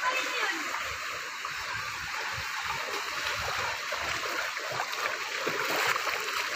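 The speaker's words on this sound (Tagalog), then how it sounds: "Napakalakas ang agos ng tubig o." Loud, continuous rushing of fast-moving floodwater, a steady broadband roar that fills the whole stretch, with a voice faintly underneath at times.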